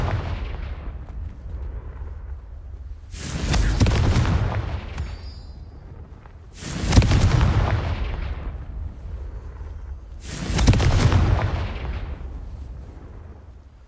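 Confringo fire-blast spell from the video game Hogwarts Legacy, three heavy booming explosions a few seconds apart, each with a deep rumbling tail over a low ambient background.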